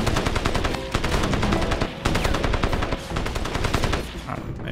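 Rapid automatic gunfire in the shooter game Crysis, dense bursts of shots rattling almost continuously with brief gaps, loud and close.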